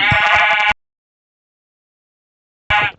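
Two loud, close bleats from a sheep in Minecraft, one short cry at the start and another after about two seconds of total silence.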